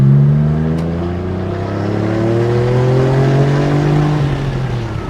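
Engine of a 1996 Porsche 911 993 Turbo GT2 warming up and revving, a loud close droning tone that rises and falls smoothly across several seconds with layered harmonics.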